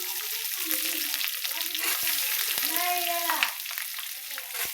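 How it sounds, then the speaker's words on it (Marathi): Peanuts and green chillies fry in hot oil for kanda poha, a close, steady crackling sizzle with occasional sharp pops and scrapes of stirring. "असे शेंगदाणे तेलात टाकायचे."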